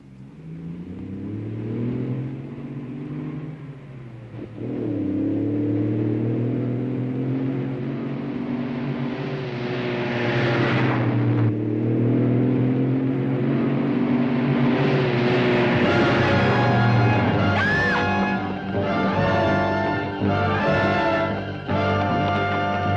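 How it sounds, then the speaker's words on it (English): A truck driving in for a film stunt, its engine revving and building steadily over a low rumble, loud and close, with rising whine and rattling toward the end. "Bring on the truck."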